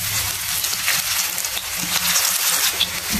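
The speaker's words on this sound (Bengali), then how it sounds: "তেল গরম হয়ে আসলে একটা একটা করে পাকোড়া দিয়ে দিলাম।" Coriander leaf pakoras deep frying in hot oil give a steady, close bubbling sizzle that stays even and continuous throughout, with no talking over it.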